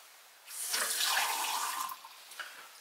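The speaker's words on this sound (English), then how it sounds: "drink water directly from the water pipe" A tap opens and water runs steadily in a close, hissing stream, then eases off slightly with a few splashes near the end.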